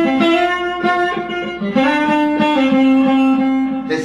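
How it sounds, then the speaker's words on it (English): Two distorted electric guitar lines play in harmony, sustained melodic notes moving together in a steady, loud riff with no talking. "two guitar parts come in that are in harmony with each other that are going like"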